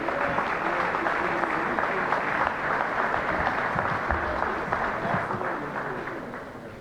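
Guests at a coaches association awards banquet give a steady round of applause from a large room, moderately loud and sustained, slowly thinning toward the end.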